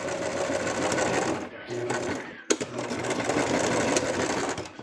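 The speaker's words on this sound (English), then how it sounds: "the neck is actually the next thing I'm sewing together" A sewing machine runs steadily, stitching the neck seam of a goofy plush toy. The machine whirs loudly and continuously, briefly pauses near the middle, then resumes, with a sharp click at the restart.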